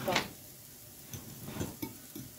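A mini burger mixture of reconstituted steak and seasonings being stirred in a bowl, with a few soft scraping and mixing strokes spaced through a short, quiet stretch.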